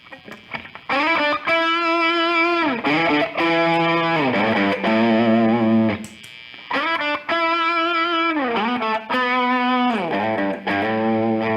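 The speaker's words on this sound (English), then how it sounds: "Let's throw in a Vulture to go show how a Neo Comp affects distortion. This is without the Neo Comp." Electric guitar played through a T-Rex Vulture distortion pedal with no compressor, sustained fuzzy chords and bending notes rich in harmonics, loud and close with short pauses between phrases.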